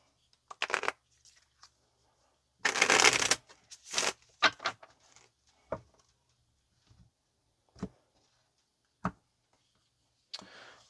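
Tarot cards being shuffled in short bursts, a longer riffle followed by scattered quick flicks and taps, close by and otherwise quiet.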